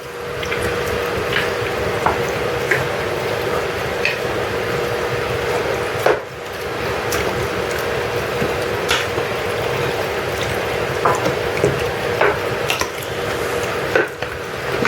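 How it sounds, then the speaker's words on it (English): Homemade tomato ketchup mixture with water is stirred in a pan, giving soft repeated wet squishing and light scraping, close up and steady without talk. "Give this a good stir."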